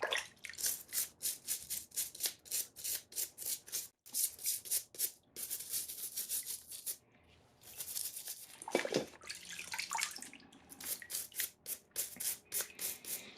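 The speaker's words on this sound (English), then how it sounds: "So I got this brass brush here." Repeated brisk scrubbing strokes of a brass-bristled brush against a car cylinder head from a 2008 Acura MDX, with some splashing water, continuous and close.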